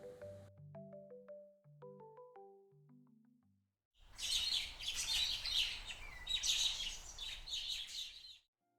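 A parrot chirps in a rapid, bright, busy run of twittering calls that lasts several seconds on its own, after a short synthetic melody.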